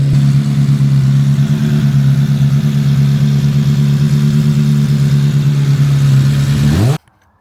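A Suzuki Bandit motorcycle engine, formerly abandoned and just revived with brake cleaner, runs steadily and loud for about seven seconds with a strong low hum, then cuts off abruptly into silence.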